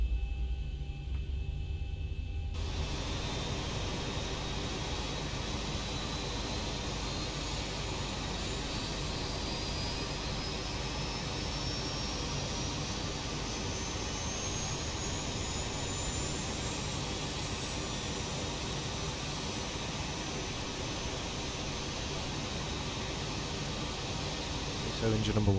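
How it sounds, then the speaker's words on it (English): Engine number 1 of an airliner spools up in X-Plane 11, a steady loud jet roar with a slowly rising whine that climbs over about twenty-five seconds after a brief quieter start. "So engine number 1 now coming to life."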